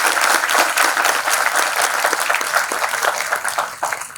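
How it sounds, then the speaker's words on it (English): An audience at an HR conference breaks into full, sustained applause, a thick and even roar of many hands clapping that holds for about four seconds with no voice over it. "Please give a big round of applause for them"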